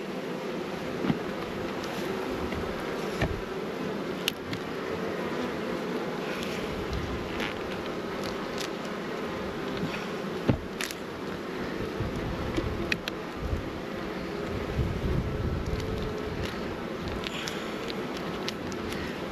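Honey bees hum steadily around the feed-packed frames of a wasp-proof Langstroth nuc, a continuous low drone with scattered brief knocks and handling sounds throughout.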